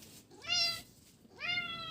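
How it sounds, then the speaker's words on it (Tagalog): A hungry pet cat meows twice, close and clear, each call rising then falling, with a short pause between. "Pusa ko, kakatating ko, gutom na."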